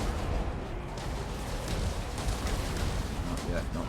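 Troops firing volleys in the Total War: Warhammer video game, a dense, continuous roar of massed gunfire and battle noise with a voice talking over it throughout.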